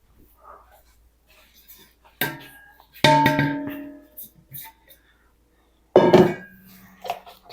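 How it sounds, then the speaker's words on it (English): A spatula scrapes and knocks around the bottom of a mixing bowl of macaron batter, in a few separate bursts of scraping and clinking with quiet pauses between. "I'm going to scrape down the bottom, make sure I've got the whole bottom"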